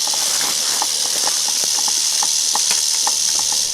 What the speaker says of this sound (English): That rattlesnake made a lot of racket